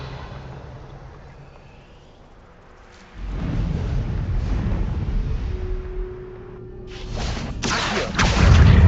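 Revelio spell cast in Hogwarts Legacy, a low rumbling whoosh that swells after a quiet stretch, then a brighter shimmering burst near the end, loud and alone without talk.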